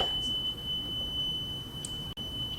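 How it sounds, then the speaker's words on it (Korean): A gas stove in a Korean cooking-exam kitchen gives a thin, high electronic beep that holds as a steady tone for over two seconds while the pan is lifted. No one speaks over it. "그래서 계속 들고 하시면은 삐 소리가 나요."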